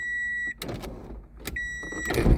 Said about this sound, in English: you can hear it trying to open and close like that. You can hear the motor engaging.